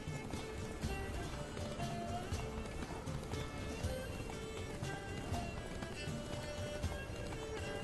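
Horse hooves pound in a fast galloping rhythm under a dense wash of game music and ambience in The Witcher 3: Blood and Wine, steady and moderately loud throughout.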